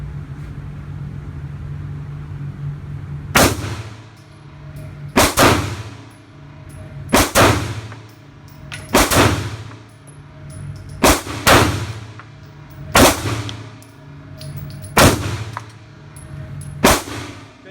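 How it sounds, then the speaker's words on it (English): Remington R51 Gen 2 pistol firing full metal jacket rounds outdoors at a range: seven sharp, loud shots spaced roughly one to two seconds apart, each with a brief ringing decay over a low background hum. "I just shot about 7 rounds, and overall the recoil felt really light, but I'm gonna run another 7 through it"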